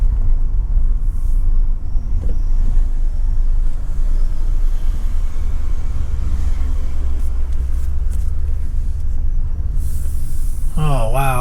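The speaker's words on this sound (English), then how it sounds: "I was just driving from Rome to get up here" A car drives on a road toward the hilltop Italian town of Narni after coming from Rome, with a steady engine and road rumble throughout that is loud and close, ending in a brief higher whine.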